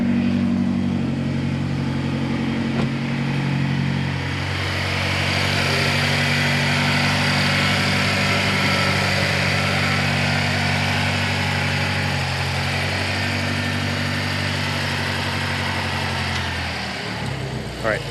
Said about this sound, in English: turn the engine on, let it idle